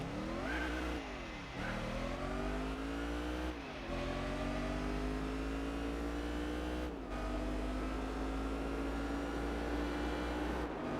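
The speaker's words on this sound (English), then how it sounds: "I want to see how the car sounds." Loud, continuous engine roar from a racing car in the video game Gran Turismo 4 on PS2, revving up in rising sweeps with brief drops between gear shifts, no talking.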